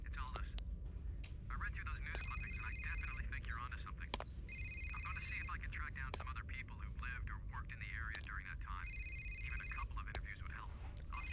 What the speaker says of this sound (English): Where's this phone ringing from?